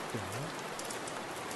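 Steady rain pours down in the horror game 株式会社闇, a dense, even hiss of falling water that fills the scene with no voices, with a brief low swooping tone near the start.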